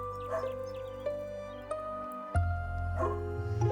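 A dog barks outside, several sharp yips and woofs spaced a second or so apart, fairly faint and distant.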